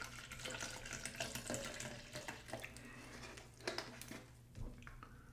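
Water pours from a tap into a shaker cup for a Dymatize ISO 100 protein shake, a faint, splashy running trickle with a few small clinks, close and quiet, no talking.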